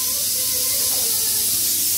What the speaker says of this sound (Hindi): कुकर की सिट्टी है